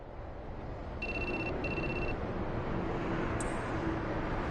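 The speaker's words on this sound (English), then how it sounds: "I think that's your phone going off." A phone rings twice inside a video game, two short electronic trilling bursts in quick succession over a steady background hum, with no voices.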